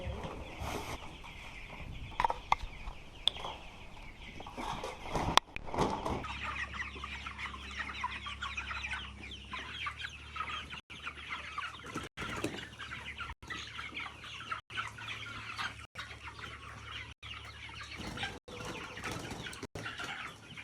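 Cornish Cross meat chickens, about 44 days old, clucking in a coop with scattered soft clucks, a few wing flaps and sharp knocks over a low steady hum, close and fairly quiet.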